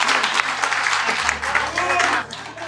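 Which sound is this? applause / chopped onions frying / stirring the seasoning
applause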